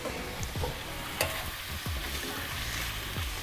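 Shrimp sizzle steadily in a hot sauté pan while a utensil stirs them, with soft scraping knocks at irregular intervals over the constant frying hiss, close up and without talk.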